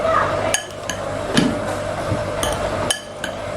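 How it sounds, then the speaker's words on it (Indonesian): A tempeh mixture is stirred in a bowl, with several sharp metallic clinks and scrapes of a utensil against the bowl spaced irregularly over a quiet background. "Kita aduk rata ya teman-teman."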